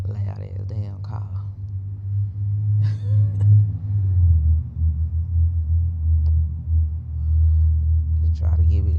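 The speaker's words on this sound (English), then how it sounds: "Loud ass damn car." A loud car rumbles past outside, a deep low engine drone swelling and lingering for several seconds while someone talks over it.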